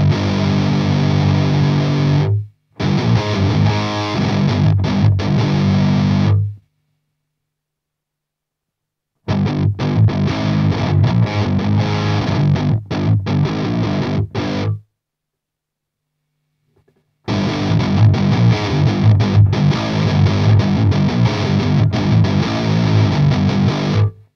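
Electric guitar driven through an Airis Effects Savage Drive pedal into a Victory Kraken amp, giving loud, heavily distorted riffs in three bursts separated by short silent gaps.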